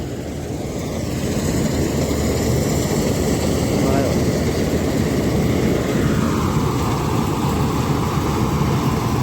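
A Dashmesh combine harvester cuts a soybean field at slow speed with its cutter reel turning slowly. Its engine and threshing make a loud, steady broadband roar that runs unbroken through the whole stretch, close to the listener.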